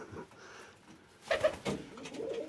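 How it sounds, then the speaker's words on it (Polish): A pigeon kept in a bird breeder's aviary gives a short throaty coo, brief and close, rising out of quiet background noise. "Bardzo pocieszny gołąb."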